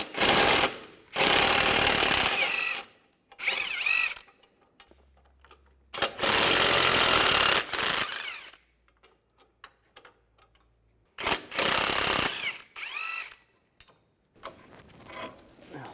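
A wrench works the nuts off a ball joint on a 2005-2010 Chevrolet Cobalt. Loud bursts of rapid ratcheting and clicking come in several separate runs with short quiet gaps and small clanks between.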